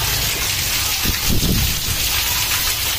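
Heavy monsoon rain pours steadily in Bhawanipatna, a loud, dense, unbroken hiss of drops on surfaces that fills the whole stretch with no voices.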